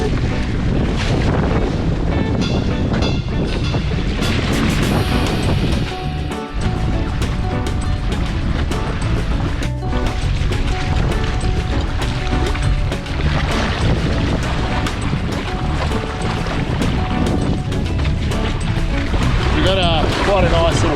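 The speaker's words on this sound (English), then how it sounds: "Quite a nice little wind. It's a southeaster. It's just enough wind on the sail to get out." Southeasterly wind at sea buffets the microphone on a sailing Hobie kayak, a loud continuous roar with gusting rushes and water slaps throughout, while someone talks over it.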